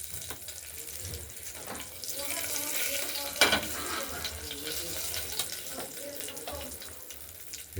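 Cumin, bay leaf and dry red chilli sizzle in hot oil in a pressure cooker before moong dal goes in, a close, bright hiss that swells in the middle and keeps crackling faintly.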